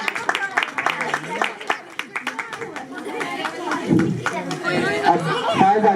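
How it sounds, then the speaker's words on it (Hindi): Audience clapping at a Christmas drama performance for a small child, with scattered claps running through loud crowd chatter and a voice speaking over it. "ये बराज़म के लिए, छोटे बच्चे के लिए तालियां बजाएं।"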